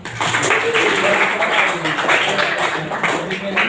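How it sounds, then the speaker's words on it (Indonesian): Students in a vocational engine-technology classroom clap together in steady, dense applause that runs the whole stretch at close range, with voices mixed in underneath. "baru biasa tepuk tangan dulu Anam nih"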